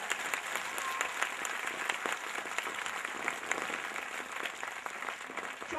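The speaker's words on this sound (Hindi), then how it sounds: "एक बार जोरदार परम पूज्य गुरु जी के तालियों से स्वागत करें" A crowd applauds steadily for several seconds to welcome a revered guru, a dense and even wash of clapping hands with no break.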